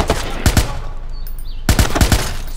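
Automatic weapon fire in the video game Watch Dogs comes in two loud, close bursts of rapid shots, separated by a quieter stretch with faint background game sounds.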